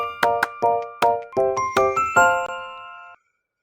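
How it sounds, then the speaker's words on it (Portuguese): A short chiming intro jingle plays as a channel opener, a bright sequence of about eight ringing bell-like notes in a quick rising pattern, the final chord sustaining before cutting to silence. "Vou rodar a vinheta"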